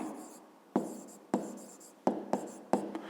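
A pen writing on paper up close, quiet faint scratching broken by five or six sharp taps and short strokes in an uneven rhythm.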